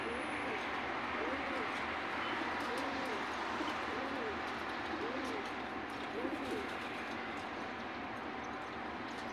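Racing pigeons coo in a soft, repeated rhythm of rolling calls, each a few seconds apart, over a steady hiss of background noise.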